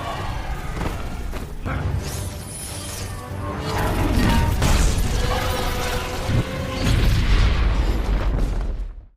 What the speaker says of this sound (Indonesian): Thor langsung menyerang Aether dengan petir dan membuat Aether